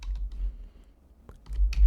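Keys clatter on a computer keyboard while words are typed into a 1994 DOS puzzle game, short bursts of close, crisp tapping at the start and end around a quieter pause.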